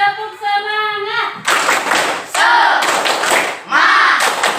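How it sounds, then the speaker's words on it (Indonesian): Schoolchildren in an Indonesian classroom answer with a rhythmic 'tepuk semangat' clapping chant, loud bursts of group claps in a patterned beat, preceded by a short sung or called-out phrase from the teacher. "Tepuk semangat dulu ya."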